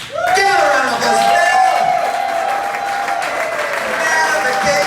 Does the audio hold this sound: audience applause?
yes